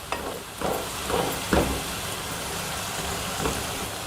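Potato gravy base sautéing until golden brown, a steady soft sizzle with a few scraping stir strokes rising now and then, moderate and close with no voices.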